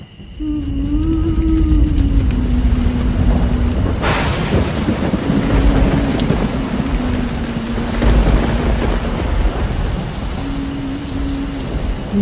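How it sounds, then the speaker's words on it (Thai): Steady heavy rain pours down with rumbling thunder through a storm, a loud crack near four seconds and more rolling peals later, with a low tonal hum running underneath throughout. "พ่อฝนตกแล้ว"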